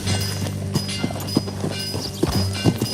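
Hooves clip-clop in a steady trotting rhythm on hard ground, close by, over a low background drone, in the video game Red Dead Redemption 2.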